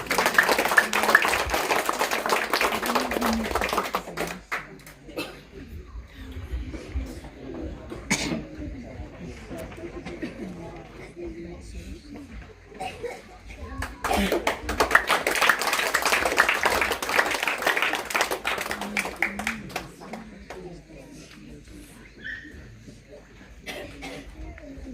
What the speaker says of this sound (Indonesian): Ya, mari kita berikan tepuk tangan.